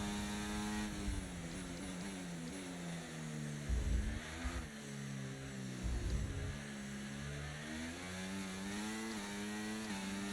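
A Formula 1 race car engine in the F1 24 video game at the Canadian Grand Prix in Montreal screams and revs continuously, pitch rising and falling through gear changes, with a couple of brief deeper bursts.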